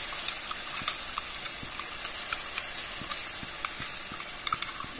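Spice paste is stirred into fish curry frying in a pan, giving a soft continuous sizzle broken by light scraping taps of the spoon, fairly quiet and close.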